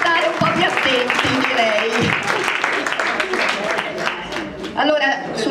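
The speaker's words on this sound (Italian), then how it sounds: "Facciamo un applauso a tutti questi che devono stare un po' più attenti" A crowd in Italy applauds at a folk choir event, the clapping running under loud, overlapping voices and fading in and out across the stretch.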